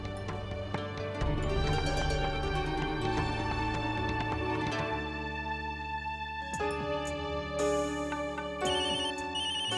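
A mobile phone ringtone plays for an incoming call in a Tamil television serial scene, a loud melodic ring repeating steadily throughout with musical background layered underneath and no speech.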